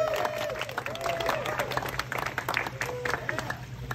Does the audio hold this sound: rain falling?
no